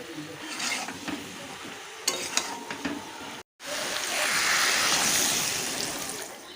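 Potol (pointed gourd) and Nutrela soya chunks being stir-fried with garam masala in a pan, a steady close sizzle with scraping stir strokes and a brief clatter, pausing a moment before the frying surges back louder.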